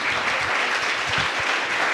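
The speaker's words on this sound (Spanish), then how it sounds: "Alguien se había quedado con las ganas de aplaudir, pues apláudanle ahora al Señor" Church congregation applauding during a Spanish-language sermon, a dense, steady burst of clapping from many hands throughout.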